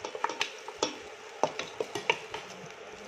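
Onion leeks are sautéed in a mix of sesame oil and ordinary oil for fried rice, with light sizzling and quick, irregular clicks and scrapes of a utensil stirring in the pan.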